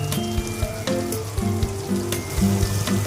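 Half a tomato sizzles steadily in hot oil in a pan while a mushroom curry is cooked, with a dense, continuous crackle and scattered pops close up, with no talk.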